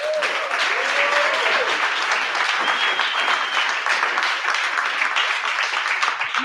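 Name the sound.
applause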